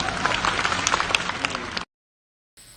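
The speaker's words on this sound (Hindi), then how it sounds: "ताली बजाओ जोरदार।" A crowd claps loudly and steadily in a dense burst of applause lasting under two seconds, then stops abruptly.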